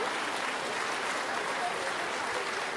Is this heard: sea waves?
no